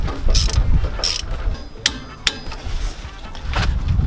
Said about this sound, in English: all we have to do is reinstall that sway bar end link, and that's an 18 millimeter nut torqued down to 41 foot-pounds